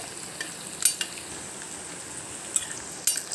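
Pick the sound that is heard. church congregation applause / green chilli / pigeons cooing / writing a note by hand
green chilli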